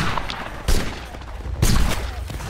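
In the game Napoleonic Wars, a ragged musket volley crackles in two main bursts, with a scattering of shots around them, loud and somewhat distant in a noisy battle soundscape.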